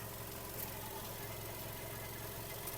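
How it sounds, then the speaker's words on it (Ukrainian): A Volkswagen Golf V engine idles in a steady, continuous hum at low volume, even and unbroken throughout. "Робота двигуна."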